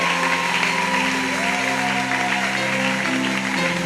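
A church congregation at a revival campaign applauding and cheering, a steady wash of clapping and crowd voices with sustained tones running underneath, loud and continuous.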